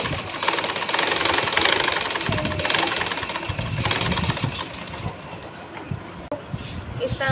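A sewing machine stitches a belted salwar, giving off a steady mechanical whirring that runs nonstop from start to finish at close range.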